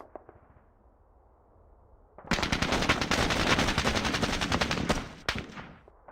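Automatic gunfire in the war game Squad Battles: Eagles Strike, with a loud, sustained burst of rapid machine-gun shots lasting about three seconds, then a few trailing shots after a quiet lead-in.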